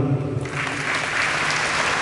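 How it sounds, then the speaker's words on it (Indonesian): An audience at an opening training event in Mimika bursts into loud, sustained applause, many hands clapping together in a close, continuous roar. "Tepuk tangan dulu."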